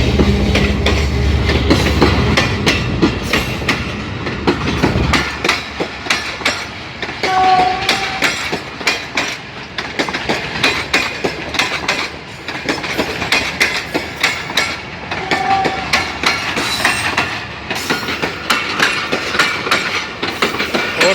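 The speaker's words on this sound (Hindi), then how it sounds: "और देखो ये पटरी का आवाज़" A train runs loudly over railway tracks judged unsafe, its wheels clattering in a fast, continuous clickety-clack close by. A heavy low rumble fades early on, and no one speaks.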